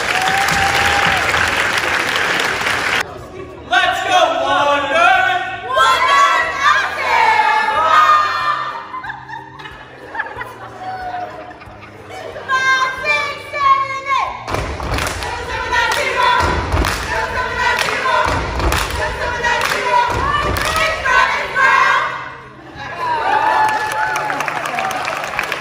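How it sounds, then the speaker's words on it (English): An audience at a school International Thespian Society induction ceremony breaks into loud applause mixed with cheers and whoops, sustained clapping with thumps and bursts of excited voices that rise and fall over about twenty-five seconds. "Please give our newly inducted thespians a round of applause."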